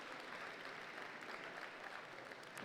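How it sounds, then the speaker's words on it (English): At a district event opening ceremony, a crowd gives a round of applause: a continuous, even wash of many hands clapping, distant and fairly soft, with no voices over it. "let's give yourselves a round of applause for everything that's built up to this weekend"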